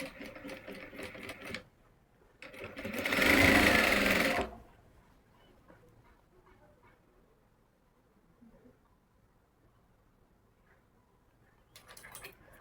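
Sewing machine stitching a pocket onto palazzo pants, with a loud burst of rapid stitching for about two seconds between quieter handling noises, and a brief second run at the end.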